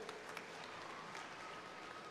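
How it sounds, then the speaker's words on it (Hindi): Audience applause at an outdoor public event in Pithampur, Madhya Pradesh, welcoming a former Union minister to the stage; steady, dense clapping at a moderate distance, sustained for a couple of seconds without a break. "ताली बजा के स्वागत कीजिए।"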